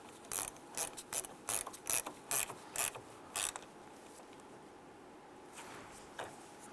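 A hand ratchet tightens a battery terminal bolt on a 2002-2008 Dodge Ram 1500, giving about eight quick, close clicking strokes in a steady rhythm, then a quiet stretch with a faint rub near the end.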